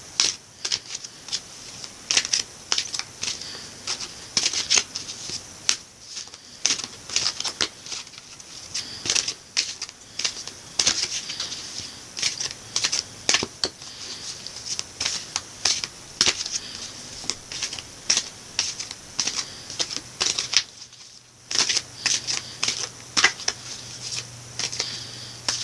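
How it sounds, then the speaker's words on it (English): A deck of Sacred Rebels oracle cards is shuffled close up, a steady run of crisp riffling and flicking card sounds lasting the whole stretch, with one brief pause near the end. "I'm also going to pull 2 oracle cards for you from the Sacred Rebels Oracle deck by Elena Fairchild."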